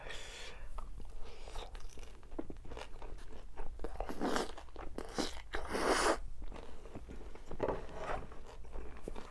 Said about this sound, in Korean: 콘치즈 이렇게 올려서 먹을게요